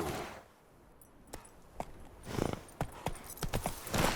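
Horse hooves clop in an irregular, quickening rhythm while riding in The Witcher 3, close and fairly loud after a quiet start.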